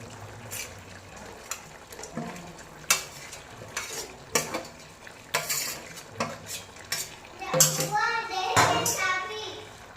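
Fried cauliflower tipped into a pan of peas masala and stirred, with a metal spoon scraping and clinking against the pan in irregular strokes under a soft sizzle, and brief voices in the background.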